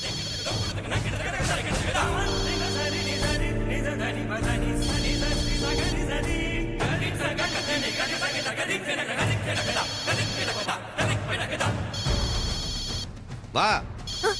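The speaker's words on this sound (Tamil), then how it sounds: "போன் அடுறா." A telephone rings in a repeating pattern of bursts, loud and close, over dense background music and voices talking nearby.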